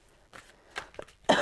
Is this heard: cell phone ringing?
no